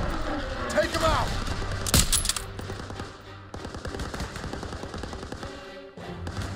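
Call of Duty WWII battle with machine gun fire: rapid rattling bursts and scattered shots up close, mixed with explosions and shouted voices.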